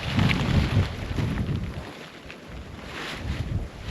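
Wind gusting at a winter hot tent campsite in sub-zero cold, a broad rushing roar that buffets the microphone. It swells, eases briefly, then picks up again, with no voices.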